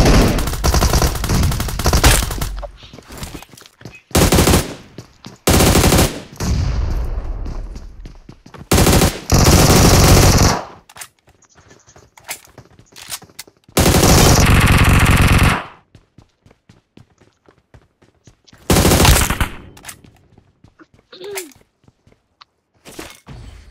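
Bursts of gunfire in the mobile battle royale game BGMI, with loud sustained automatic volleys and shorter rapid strings of shots, broken by quieter gaps with faint footsteps and clatter.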